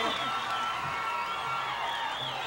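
A concert crowd at a duet performance cheers and applauds in a steady, dense wash of noise, with scattered whoops rising over the clapping throughout.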